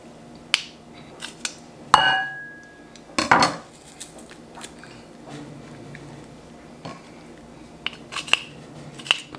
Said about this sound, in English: I'm just mincing up some of this garlic so I can put in this butter